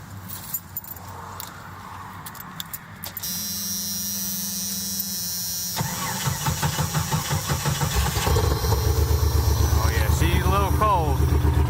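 Keys jangle close by before an engine starts and settles into a cold idle, its rough mid-pitched running growing steadier and louder as it warms up.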